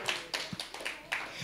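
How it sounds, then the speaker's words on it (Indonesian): Church congregation claps during a sermon, a handful of sparse, quiet hand claps in an uneven rhythm, sounding small and somewhat distant. "Tepuk tangan dong buat Tuhan Yesus."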